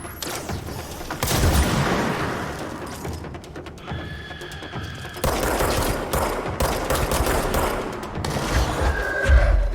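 Dense gunfire and explosions from the video game Control come in heavy overlapping bursts of rapid shots and booms, with a short quieter stretch in the middle before the firing resumes loudly.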